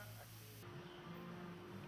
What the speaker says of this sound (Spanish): la trabajadora usa un mechero para eliminar por completo cualquier costura suelta